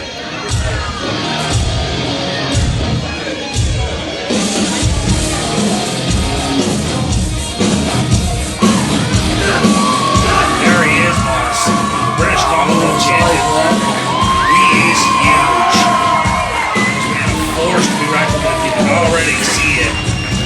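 A wrestling crowd at a British Commonwealth Title main event cheers, whoops and yells continuously with entrance music swelling, a dense, steady roar of many voices that keeps building.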